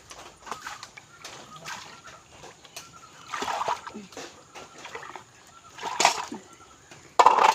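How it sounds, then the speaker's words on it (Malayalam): Dishes washed with water outdoors make scattered splashes, trickles and light clatters, louder toward the end, with faint birds and fowl around. "ഈ വെളിയിൽ കുറച്ച് പാത്രങ്ങളാണ് അപ്പം ഞാനതിന് വെളിയിൽ വെച്ച് തന്നെ കഴുകിയെടുക്കാമെന്ന് വിചാരിച്ചു"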